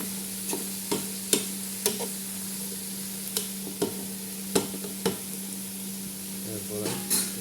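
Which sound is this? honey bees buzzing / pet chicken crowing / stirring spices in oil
stirring spices in oil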